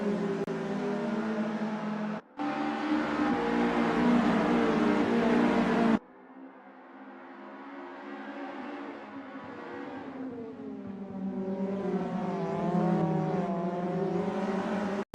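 A pack of VW GTI race cars battles around a track in the SRA 2025 VW GTI Challenge, several engines howling and shifting up through the gears with one abrupt cut, loud and close throughout.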